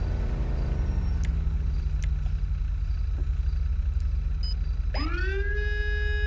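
A police car siren being tested, heard as a low winding tone that sinks and fades, a few short clicks, then a loud siren that sweeps sharply upward and holds near and steady over a constant engine rumble.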